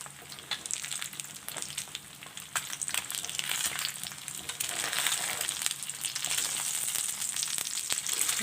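Egg and a bread slice frying in a pan on a low flame, a continuous close sizzle with dense small crackles and pops that grows slightly louder midway.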